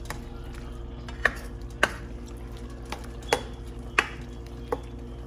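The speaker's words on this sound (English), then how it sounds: "So I am cooking this and I am continuing to stir because I do not want it to burn" Beef sausage cooks in a greasy pan under a low steady sizzle, while a utensil scrapes and taps against the pan in six or so distinct, evenly spaced strokes.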